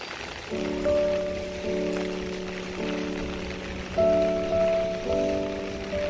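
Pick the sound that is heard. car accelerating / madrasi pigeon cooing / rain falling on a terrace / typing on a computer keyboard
rain falling on a terrace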